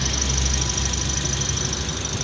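A 2023 Toyota Avanza with a 1NR engine runs steadily at close range, a continuous mechanical hum with a high whine and no talking.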